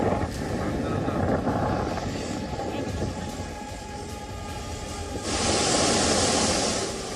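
Floodwater rushes along streets in Saudi Arabia, a loud continuous broadband roar that swells sharply louder near the end, with no one talking.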